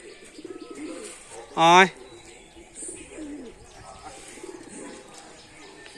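Giribaz pigeons being hand-fed mustard seeds give a short, loud burst of cooing close by, with softer chirps and coos around it while a person coaxes them in the background.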